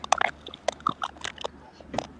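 Someone chews something hard, producing irregular crunchy clicks and bites in quick bursts, close and fairly distinct over a quiet background.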